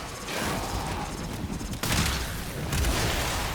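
Rapid gunfire from the Incarnon Prisma Gorgon in the video game Warframe, a dense continuous burst of shots with mechanical clatter, loud and sustained, briefly dipping before resuming.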